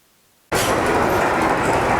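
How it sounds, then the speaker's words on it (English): After a brief quiet moment, a loud rattling rumble of a train passing close by at Indiana Beach starts abruptly and continues steadily. "Train just went through, right through there and around."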